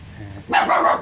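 A dog barks close by in a rapid, loud burst of several barks, heard outside a riverside home on a tourist islet in Cần Thơ.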